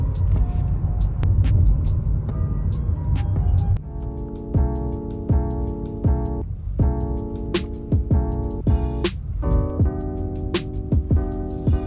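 A car on the move gives a steady, loud low rumble of engine and road noise that runs throughout, with tonal sounds layered over it.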